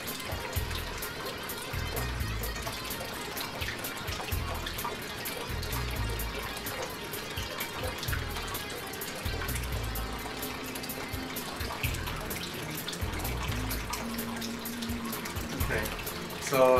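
Water pours steadily into an aquarium protein skimmer tank, filling it until the level rises above the pump exhaust, a continuous close splashing and gurgling wash with low rumbling pulses underneath.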